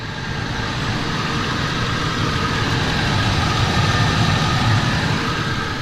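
A Ford F150 pickup with 311,000 miles and a K&N intake idles nearby, a steady, even engine drone with a low rumble that holds unchanged throughout and no talking.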